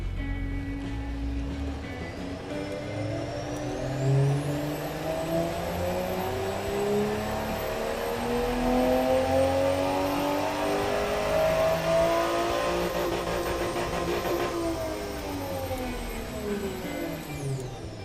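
A synthetic video game car engine, from a Nissan Skyline R34 replica in Automation, starts and revs up and down through several sweeping pitch climbs, steady and close, with a high electronic tone above.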